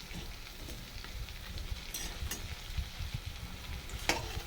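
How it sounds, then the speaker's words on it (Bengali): Pumpkin flower fritters in a lentil batter of ground urad and masoor dal with a little rice fry in oil, giving a steady low crackle and sizzle with scattered pops and a sharper spatter near the end. "ফুলের বড়া করছি ডাল দিয়ে"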